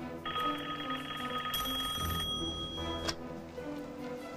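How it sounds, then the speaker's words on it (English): A telephone rings indoors with a steady electronic trill, moderately close and alone with no talk, under faint room tone. "It's Marshall's phone"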